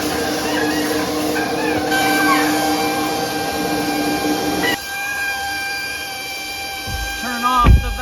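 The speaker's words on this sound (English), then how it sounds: "turn on the vacuum" A robot vacuum cleaner whirs with a steady mechanical hum, then a cat meows briefly near the end.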